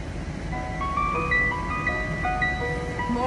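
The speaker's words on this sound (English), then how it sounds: "Alexa, play ice cream truck song." An ice cream truck jingle plays from a smart speaker, a bright, steady tinkling melody of short repeated notes with a constant low hum beneath and no talking.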